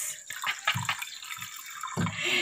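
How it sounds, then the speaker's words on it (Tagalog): Mineral water poured into a container while relief food is being prepared. It makes a close, splashy, gurgling pour in uneven bursts lasting about two seconds, with no talking. "Lagyan mo na tubig."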